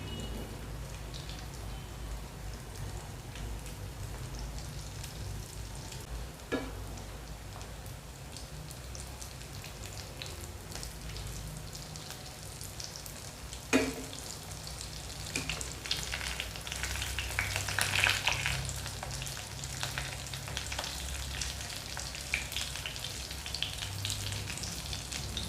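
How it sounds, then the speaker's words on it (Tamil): Bread and potato snacks fry in hot oil, a soft steady sizzle with a few sharp pops and clinks of a utensil, fairly quiet and without talk. "கோல்டன் கலர் வர்ற வரைக்கும் நம்ம இதை பொரிச்சு எடுக்கணும்."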